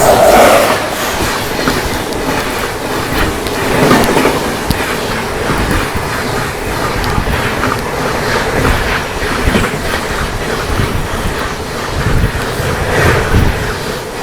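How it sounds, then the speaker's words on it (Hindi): The Lalgarh–Prayagraj Superfast Express rushes past close by as it crosses the Shiv Ganga Express, heard from on board as a loud continuous roar of wheels with rhythmic clatter throughout. "Lalgarh Prayagraj superfast express crossing हो रही है अपनी शिवगंगा एक्सप्रेस के साथ।"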